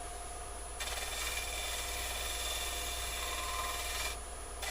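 A wood gouge brushed back and forth across a wooden surface, giving a steady, close rasping scrape that runs almost without a break for several seconds over a constant background hum.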